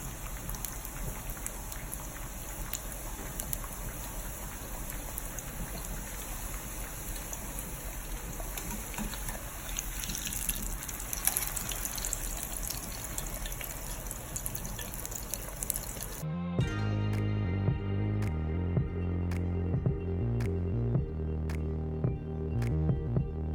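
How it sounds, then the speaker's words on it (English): Corn tortillas fry in hot oil with a dense, crackling sizzle that runs steadily, then shifts to a different clattering texture partway through. No voices are heard. "fry our corn tortillas 30 seconds on each side"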